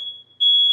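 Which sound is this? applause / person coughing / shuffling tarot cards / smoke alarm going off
smoke alarm going off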